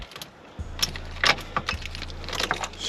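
Keys jangle and click in a car ignition during a stormy week, followed by a low steady electrical hum as the dead engine fails to crank; several light metallic rattles, close and fairly quiet.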